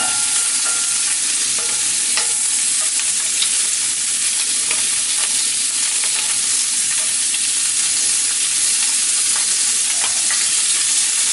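Kielbasa pieces frying in a pan for a farmer's breakfast give a loud, steady, dense sizzle that runs unbroken throughout, with faint occasional pops and spatters.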